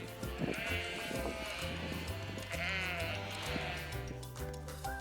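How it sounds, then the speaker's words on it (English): A sheep bleats repeatedly in a farm-animal sound sequence for toddlers, wavering nasal baas sounding close and loud over a steady background with some layered animal noise, no talking. "Sheep"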